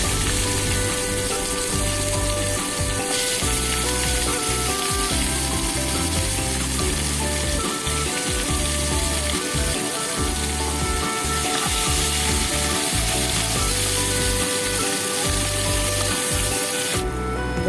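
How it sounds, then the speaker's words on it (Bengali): Onions fry in hot oil for a fish-head muri ghonto, a loud, continuous sizzle with crackling and occasional stirring that runs throughout without speech. "দেখুন পেঁয়াজটা ভাজা ভাজা হয়ে এসছে"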